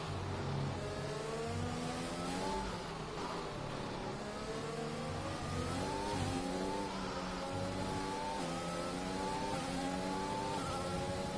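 A Formula 1 car engine in a racing video game wails continuously at high revs, pitch rising and falling through gear shifts, loud and constant with no voices.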